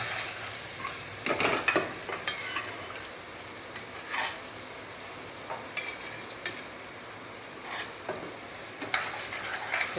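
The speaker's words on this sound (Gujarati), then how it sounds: "આ બધી તુવેર બાફેલી છે ને તે બધી જ વઘાર કરી અને તુવેર અંદર નાખી દેવાની" Boiled pigeon peas are stirred and sautéed in a hot tempering, giving a continuous soft sizzle broken by repeated scraping spoon strokes against the pan at an uneven pace.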